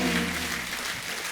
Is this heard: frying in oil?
no